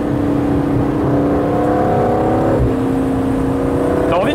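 Biturbo engine of an Aston Martin Vantage Roadster pulling under acceleration, a loud steady drone heard from inside the car that dips briefly and climbs again, with voices talking over it.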